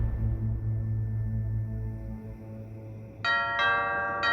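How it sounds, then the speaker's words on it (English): Over a low steady hum, a doorbell rings out two bright chiming tones in quick succession near the end. "The doorbell rang as I was getting the kids tucked into bed."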